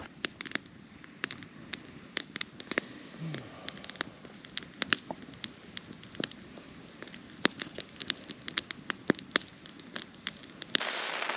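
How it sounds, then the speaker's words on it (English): Rain patters and taps with scattered sharp drips and crackles, steady throughout, close by under a cover at a backpacking camp in Chicago Basin, Colorado, with a brief low murmur partway through. "lots of rain."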